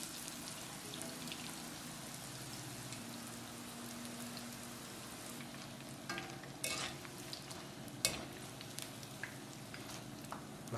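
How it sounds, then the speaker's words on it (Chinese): Chinese fried dough sticks drop into hot oil in a wok, giving a steady, close crackling sizzle with brief louder pops and spatters throughout, no talk. "倒啲油炸鬼落啦"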